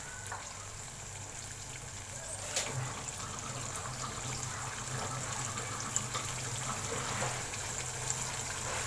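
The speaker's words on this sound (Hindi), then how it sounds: "अब इसमें मैं इतना पानी डाल दूंगी कि जिसमें आलू गल जाएं" Water poured into a pot of potato and egg curry, a faint steady trickle and splash at moderate distance throughout, with a few small clinks.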